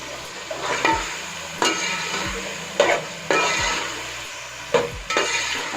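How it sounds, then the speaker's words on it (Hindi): Vegetables including tomato and carrot being stirred and fried in a pan, a steady close sizzle broken by several sharp scrapes and clanks of a spoon against the pan, with no talking. "अब मैं सब्जी अच्छी तरह भूनूंगी।"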